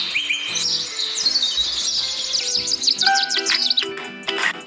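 A nightingale trills and chirps in quick bright phrases, loud and close, over a steady musical accompaniment.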